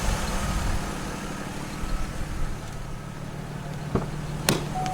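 A Chevy Trailblazer engine idles with a low, steady rumble, a few faint clicks and knocks over the hum from a noisy belt.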